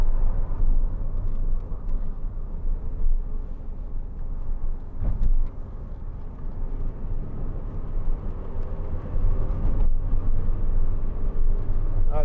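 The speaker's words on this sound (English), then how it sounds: "A little bit of wind noise. The fan's making probably the most noise, I think." Inside a 2004 MG TF 1.6 two-door on the move, a steady low rumble of wind and road noise blends with a cabin fan's whoosh, continuous and moderate with occasional small bumps and no talking.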